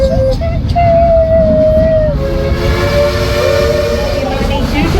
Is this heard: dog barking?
no